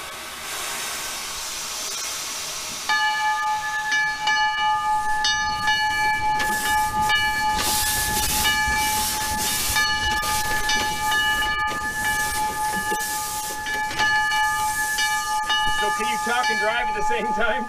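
An 1889 Porter steam locomotive's loud whistle blows in long steady tones over hissing steam and rumbling machinery, with chuffing building as it starts to roll.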